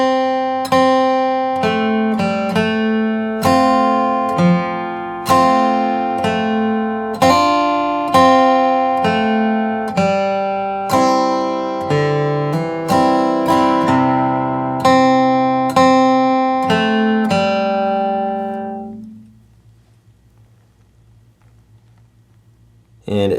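Clean country lead guitar playing the melody line of a song, a steady run of plucked single notes and double-stops, close and clear, ringing out into silence near the end.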